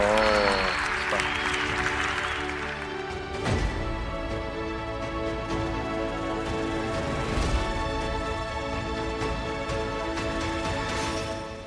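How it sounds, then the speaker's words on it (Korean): A TED-stage audience of about 3,000 gives a standing ovation, with dense, sustained applause spread across the whole stretch under a ringing, tonal backdrop. "기립박수"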